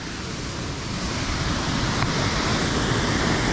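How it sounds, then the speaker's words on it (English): A waterfall near Aspen, Colorado roars as a loud, dense and steady rush of falling water heard close by, with no speech. "so right over the waterfall?"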